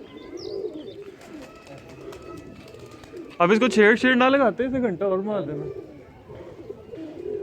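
Pigeons coo close by in a loud burst of warbling, throaty calls partway through, with someone speaking over and around the birds.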